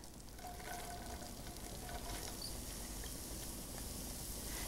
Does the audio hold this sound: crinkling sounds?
no